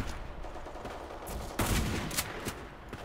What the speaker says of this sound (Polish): Dwa strzały z daleka strzelamy.